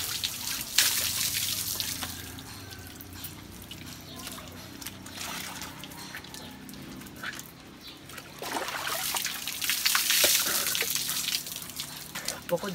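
Water drawn from a rural well splashes and pours while someone bathes outdoors, with irregular sloshing, drips and louder splash bursts close by, and a person talking over parts of it.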